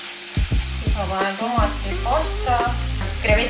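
Tomato paste frying in a pan after garlic and bacon, a steady close sizzle running throughout with brief clatters of stirring, no talk.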